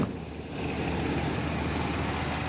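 A 1984 Cadillac Fleetwood engine runs at a steady idle nearby, a continuous low rumble with an uneven, throbbing exhaust texture and no talk over it.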